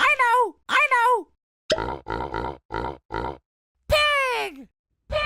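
A voice imitates a pig with a string of short, rhythmic grunts, framed by higher squeaky vocal calls before and after, close and clear.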